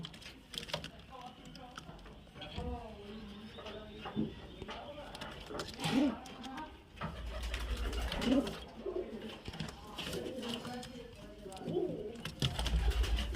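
Soft coos of highflyer pigeons repeat under nearby talking, with clicking noises and a low rumble in the background.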